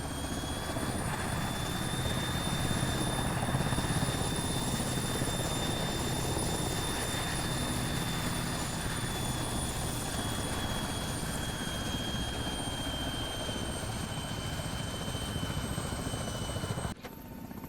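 A helicopter in the military video game Arma 3 flies with a constant loud rotor and engine drone that holds steady for about seventeen seconds and then cuts off abruptly at the end.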